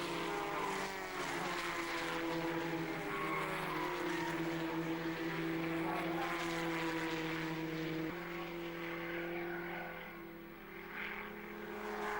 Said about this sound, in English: The car he is driving is a Van Diemen RF86 with a Nelson tuned engine